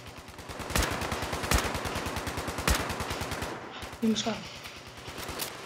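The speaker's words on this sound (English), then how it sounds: "he has a shredding minigun" A minigun in the Fallout 76 video game fires a long, rapid and evenly spaced stream of shots, with heavier bursts standing out now and then, before a short break and renewed firing. A voice speaks briefly partway through.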